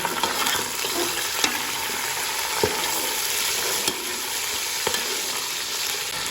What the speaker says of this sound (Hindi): अब हम इसमें ऐड करेंगे चिकन। बिस्मिल्लाहिर्रहमानिर्रहीम। चिकन को है जो हम अच्छी तरह से इसमें भूनेंगे।